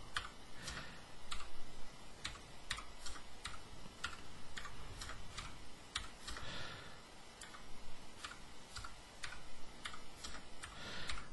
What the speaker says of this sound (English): Just take a second and type this in.